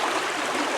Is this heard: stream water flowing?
yes